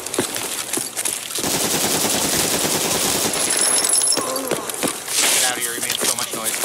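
Rapid bursts of UMP-45 gunfire in Escape From Tarkov on the Interchange map crackle continuously, with scattered louder shots and a voice talking briefly over the shooting.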